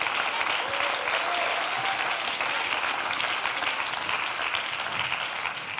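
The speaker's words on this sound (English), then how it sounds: "Clap your hands with anticipation." A church congregation claps steadily together during a sermon, a dense, sustained wash of hand claps that fills the room at an even level throughout, with no speaking over it.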